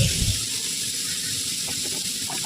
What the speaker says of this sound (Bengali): খুব ভালো করে ভাজছি।